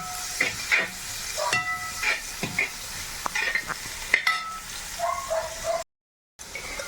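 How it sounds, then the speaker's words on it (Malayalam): Sliced onions and shallots fry in a pan over a wood-fired stove in a Kerala kitchen, with soft sizzling broken by repeated scraping stir strokes and clinks, plus brief higher yelping sounds in the background. "ഇനി നമുക്ക് ഈ സവാളയും കൂടി ഇട്ടിട്ട് നന്നായിട്ട് ഇറങ്ങാം."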